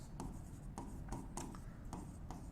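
A pen writes an accounting entry on paper, making soft scratchy strokes that come in short bursts about every half second. The sound is close but faint, with no talking.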